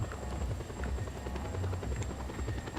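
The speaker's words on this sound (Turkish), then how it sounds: "Tekrar ben helikopteri alacağım" Helicopter in the video game Just Cause 2, a steady rapid rotor chop with a droning engine hum, continuous and fairly close throughout, with no one talking.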